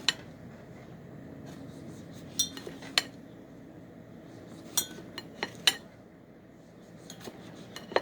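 A kitchen knife slices a fresh tomato on a board for a lettuce salad, sharp irregular taps and clicks of the blade striking the surface, spaced unevenly over quiet room tone with no talk.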